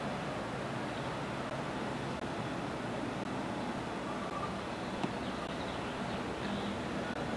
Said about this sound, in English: what you're hearing is the